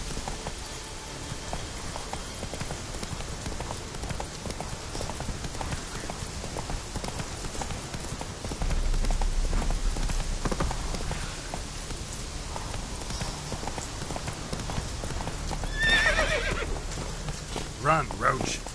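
Horse galloping in The Witcher 3, steady clip-clop hoofbeats with an occasional whinny, continuous across the clip with a rider's voice urging it on.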